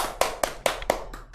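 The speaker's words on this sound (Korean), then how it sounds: "네, 박수!" Five sharp, evenly spaced claps ring out at an online university opening ceremony for counseling psychology and art therapy students, crisp and close with a steady rhythm.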